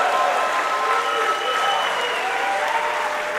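Wrestling crowd at an APW ring cheering and applauding steadily, a dense, continuous roar of clapping and voices with no pause for the whole stretch.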